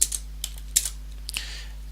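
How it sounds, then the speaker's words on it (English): Code typed on a computer keyboard, a handful of crisp, close key clicks in an uneven rhythm over a low steady hum, with no talking. "And now I could just type in"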